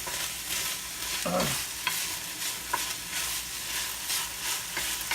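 Hickory bacon frying in a pan in a home kitchen, a steady crackling sizzle with a few sharp pops and clicks, heard alone without talk.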